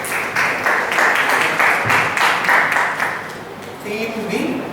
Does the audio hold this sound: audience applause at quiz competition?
yes